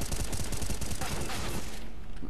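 Rapid automatic gunfire in Counter-Strike: Global Offensive, a dense burst of evenly spaced shots loud and close for about two seconds before tailing off.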